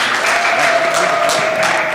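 An audience at a SACCO annual general meeting breaks into a short, dense burst of applause welcoming a new director, loud and steady throughout.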